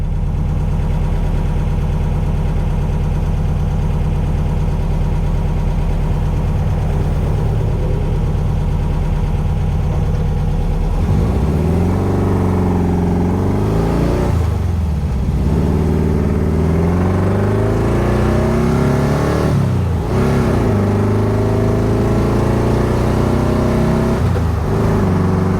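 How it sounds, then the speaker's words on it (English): A 1964 VW Karmann Ghia's carbureted engine idles high and steady, then revs up in several loud swelling bursts with dips between, close and alone without talk. "You can really hear those carbs."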